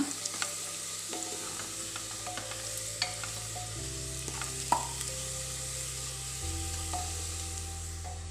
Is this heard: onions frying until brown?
yes